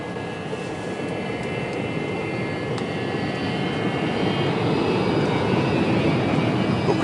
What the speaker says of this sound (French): Pourquoi il décolle pas, ce putain d'avion?